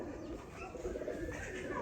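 A breeder pigeon gives a soft, continuous coo at close range, mixed with faint background noise and no talk.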